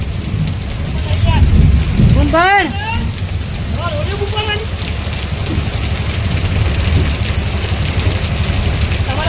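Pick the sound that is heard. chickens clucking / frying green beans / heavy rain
heavy rain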